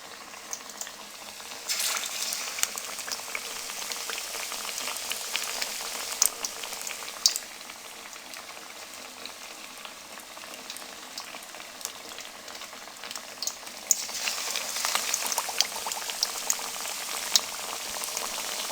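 Chicken potato kababs fry gently in oil on low flame, a steady bubbling sizzle that swells and eases over its length, close and continuous with no talk.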